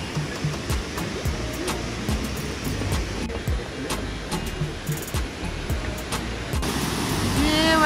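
A waterfall in Japan in autumn roars steadily as a broad, even rush of falling water, loud and close, filling the whole scene without breaks.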